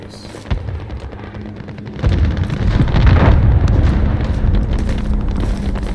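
A cruise missile strike in Modern Warfare Ground War lands with a sudden deep boom, then a sustained rumbling roar of blast and debris fills the rest, loud and close, without talk.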